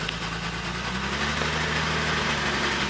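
A 1967 Jaguar E-Type S1 engine idles steadily up close with a low, even rumble and faint mechanical vibration, with no talk over it.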